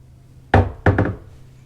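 Three knocks on a thick yacht cabin door aboard an Explorer 62, one firm rap followed after a pause by a quick double knock, close and solid with a hollow, dull body.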